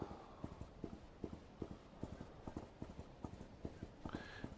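Horse hooves clip-clop in a video game as a ridden horse moves along at a steady walking rhythm, crisp evenly spaced hoof strikes, with a brief higher tone near the end.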